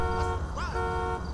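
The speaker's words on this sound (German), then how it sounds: "die Alarmanlage, die geht ganz schön auf die Nerven" A car alarm goes off in the police game Grand Theft Auto 5: a steady, continuous electronic tone with a brief rising and falling sweep in the middle, holding at a moderate level over low game background noise.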